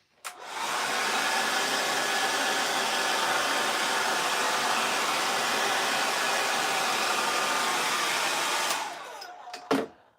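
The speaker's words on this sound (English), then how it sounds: "we blow the dust off rather than suck it up with a dust extractor" An air blower roars steadily for about eight seconds, clearing sawdust off an oak coat hanger in a woodworking shop. The loud, close, continuous hiss of rushing air cuts off, followed by a couple of brief clunks.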